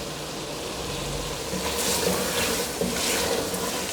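Frying masala sizzles in a pan as pre-fried turnips go in for a turnip and meat curry, a steady close hiss that swells briefly midway, with no talking.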